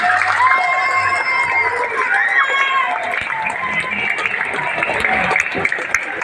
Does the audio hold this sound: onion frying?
no